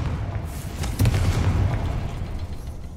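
A Confringo fire spell erupts in the Hogwarts Legacy video game as a muffled, rumbling blast. It swells after a second and rolls on as a low, steady roar with no speech over it.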